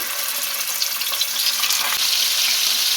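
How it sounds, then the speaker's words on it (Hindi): Marinated chicken frying in a few tablespoons of oil in a pan over high flame, a close, steady crackling sizzle with a couple of faint knocks, no talking. "तो ये मैरिनेटेड चिकन है, इसे रख दें और इसे फ्राई कर लें।"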